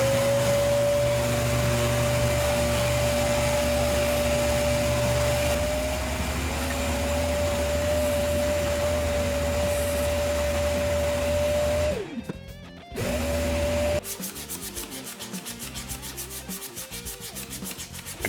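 Power sander smoothing a guitar finish on a Gibson Explorer-style body while grits climb toward 4000, a steady close whir with a constant tone that drops out briefly near the end, then resumes with a rougher rubbing texture.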